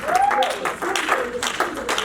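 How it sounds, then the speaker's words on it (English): A church congregation gives a big clap offering after worship, scattered hand claps mixed with cheering and raised voices, fairly close and lively. "Come on, give them a very big clap offering."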